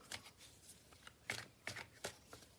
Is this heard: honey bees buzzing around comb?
no